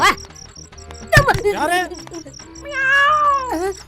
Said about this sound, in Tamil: உள்ளே நுழைந்தவுடன் தடுக்கி விழுந்தால் பூனை போல் கத்த ஒண்ணு போட்டிருக்கு